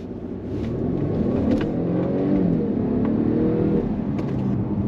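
A Mercedes-Benz E300 petrol sedan of the A238 generation accelerates hard behind traffic, its engine note rising in a smooth, steady rumble heard from inside the cabin over a constant road roar.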